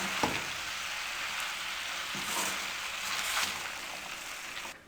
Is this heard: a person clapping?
no